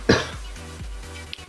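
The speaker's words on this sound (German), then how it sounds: "tut mir leid für den Husten" A single short cough up close, followed by faint low background noise.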